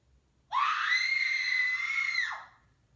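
A single loud, sustained scream rises sharply, holds at a high pitch for about two seconds and then drops away, heard alone and up close.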